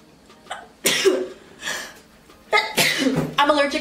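A girl sneezes several times in a row, sharp bursts with short gaps between them, close and fairly loud, with breathy intakes around them.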